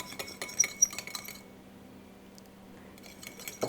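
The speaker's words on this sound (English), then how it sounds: "And whisk this all together." Whisk clinking against a bowl while an olive oil and lemon juice vinaigrette is mixed, a quick run of light metallic taps and scrapes that stops midway, then resumes faintly at the end.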